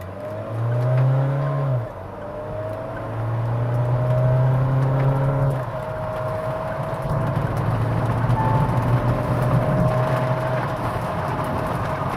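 A Mahindra Thar with a manual gearbox accelerates hard from standstill toward 100 km/h. The engine note climbs, drops at each gear change and climbs again, loud and close throughout.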